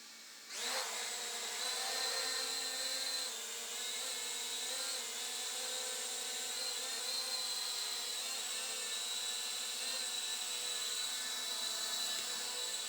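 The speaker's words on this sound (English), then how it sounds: "the drone is running and we can fly it around" Small camera drone flying indoors, a steady high-pitched propeller whine and buzz running continuously after a brief start, close and fairly loud with no talking.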